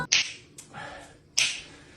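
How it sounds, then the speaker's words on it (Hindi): Finger snaps in front of a bowl, three crisp, close clicks spaced unevenly over a couple of seconds in an otherwise quiet room. "ये भाई कटोरे के सामने कब से चुटकी बजा रहा होता है ताकि कटोरे में"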